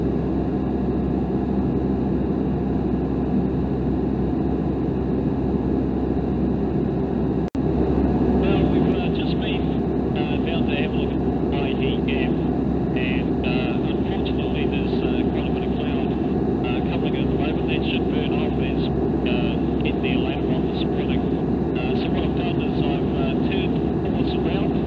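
Tecnam light aircraft ZK-JNG in flight on a loop over the Coromandel, New Zealand, its engine giving a steady, loud, continuous drone throughout, with crackly radio or intercom chatter breaking in over the cabin noise.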